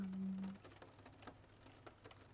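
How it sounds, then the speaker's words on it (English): Gentle rain patters softly and steadily, a low continuous wash with faint scattered drops, calm and unhurried with no thunder or wind. "Beyond the first door is a room filled with rain sounds"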